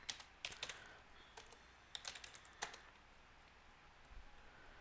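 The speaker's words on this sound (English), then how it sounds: "Can't talk and type at the same time." Rapid bursts of typing on a computer keyboard, keys clattering in uneven clusters with short pauses, close and fairly quiet against a faint room hiss.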